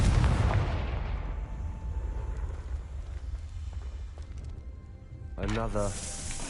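Confringo spell blast in Hogwarts Legacy, a loud booming burst at the start that rolls into a long rumbling decay, followed later by a short rattling crackle.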